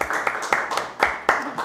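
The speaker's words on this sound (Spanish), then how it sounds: "Así que la vamos a recibir con un fuerte aplauso." An audience claps to welcome a guest, a brisk run of close hand claps with louder accents at regular beats, with voices mixed underneath.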